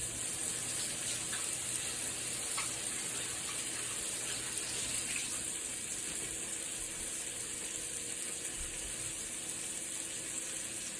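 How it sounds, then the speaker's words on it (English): A kitchen tap runs steadily while hands are rinsed after handling raw pork, giving a constant close hiss and splash of water with no talk over it. "I need to rinse off my hands here real quickly."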